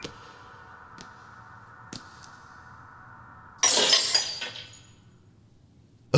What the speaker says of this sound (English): A beer bottle came flying out of the darkness and crashed at his feet